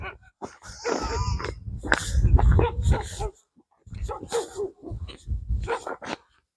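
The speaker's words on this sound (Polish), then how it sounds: "Pies szczeka." A dog barks and yips repeatedly at close range, with whimpering between the bursts, then pauses briefly before barking again.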